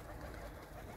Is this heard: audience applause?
no